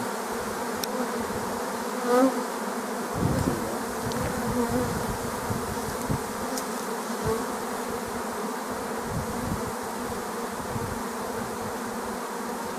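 A swarm of bees settled near an apiary in Tetiiv hums as a steady, dense buzz throughout, up close and loud, with a few slightly louder swells and no voices.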